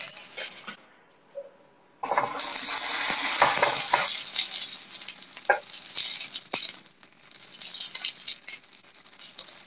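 Food sizzles and spatters in a hot pan during home cooking of an Indonesian dish, a loud continuous frying hiss starting after a brief quiet moment, then settling with stirring scrapes and clatter.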